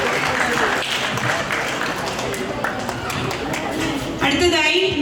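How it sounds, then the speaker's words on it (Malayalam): Audience applause at a parish day felicitation ceremony for award winners, a steady wash of clapping from a crowd that continues throughout and swells slightly near the end. "നല്ലൊരു കൈയടികളോടെ ഓസ്റ്റിൻ മരിയനെ നമുക്ക്അനുമോദനം അറിയിക്കാം."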